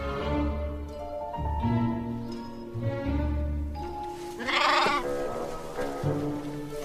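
Several sheep bleat one after another, close and fairly loud, with a higher, wavering bleat standing out partway through.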